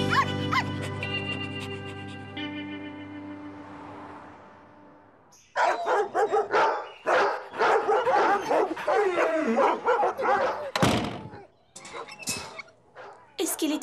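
A thin, scarred female dog gives several short barks and yips in quick bursts, following a long stretch of steady tonal sound.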